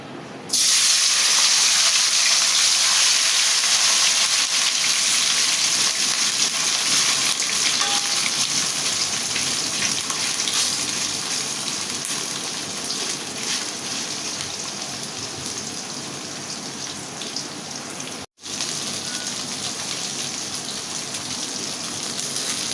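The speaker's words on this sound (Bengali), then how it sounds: "তেল আমার গরম হয়ে গেছে এখন আমি মাছটা ভেজে নেব" Fish frying in hot oil for a spicy fry, a loud continuous crackling sizzle that sets in abruptly and holds steady for the whole stretch, briefly cutting out near the end, no voices.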